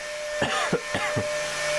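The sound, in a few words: cough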